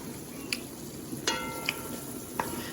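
Liver gravy simmers in a pan with a soft, steady sizzle, while a spoon stirs it and gives a few light scrapes and clinks, close by and without speech.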